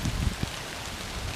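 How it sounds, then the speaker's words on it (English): Steady rain on New Year's Eve in a forest on Vancouver Island, a broad dense wash of drops on leaves and ground with a couple of heavier thumps, close and continuous, no voice. "There's my 15 minutes of getting rain soaked like crazy."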